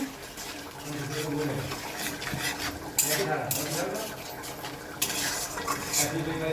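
A spoon stirs chilli, coriander and cumin powder with salt in a cooking pan for a small-shrimp malai curry, giving irregular scraping and metallic clinks over a soft sizzle, with louder knocks against the pan at intervals.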